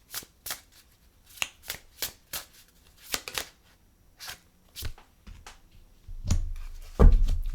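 Playing cards shuffled repeatedly in quick riffled bursts, crisp and close, followed by a louder rustling thump at the end, with no talk.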